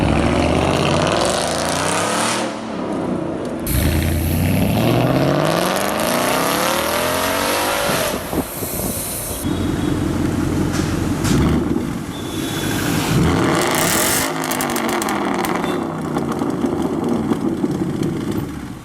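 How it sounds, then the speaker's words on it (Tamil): An American muscle car's V8 with a cross-plane crankshaft revs and rumbles loudly through its exhaust, several rising and falling throttle blips over a burbling idle, no talking. "ஸோ இதான் வந்து யூஸ்வலாக நம்ம அந்த அமெரிக்கன் மசிலில் கேட்குற அந்த ரம்பிள் நாய்ஸ்."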